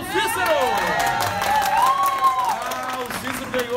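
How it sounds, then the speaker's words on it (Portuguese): Audience clapping and cheering for a prize winner at a parents' lunch raffle, a steady crowd wash of applause mixed with overlapping voices throughout. "Cadê as palmas para o Cícero?"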